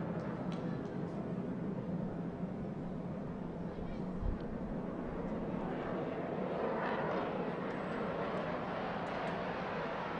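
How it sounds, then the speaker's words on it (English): Steady roar of an Air Force military jet passing overhead using thrust, loud and continuous, with faint crowd noise beneath at a women's field hockey match in Singapore. "Air Force flying above and using a bit of thrust"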